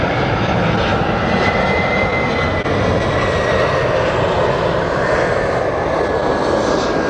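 A Delta Airbus A319 or A320 jet from Portland, formerly a Northwest airframe, roaring steadily at LAX with a loud, broad, continuous engine rush and a faint high whine held throughout.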